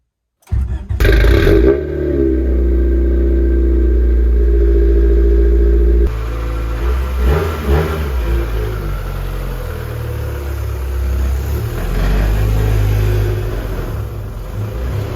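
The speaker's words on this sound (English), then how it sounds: "As you can see, the car is running with the B16." A 1990 Honda Civic hatchback with a swapped-in B16 engine idles loudly and steadily close by, with a deep, rumbling tone that shifts partway through, then keeps running without any talking.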